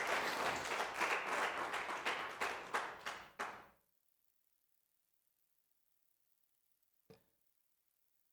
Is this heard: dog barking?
no